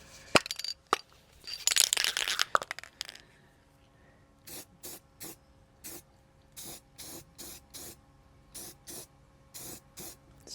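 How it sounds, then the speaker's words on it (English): A spray can paints a wood chipper, first with a few rattling knocks and a long hiss, then a steady run of short, evenly spaced bursts of close spray. "Let's get some paint on this thing, at least to keep it from rusting."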